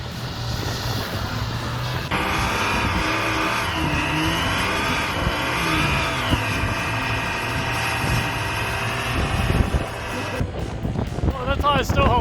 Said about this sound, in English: They go and bloody rip your tyres apart.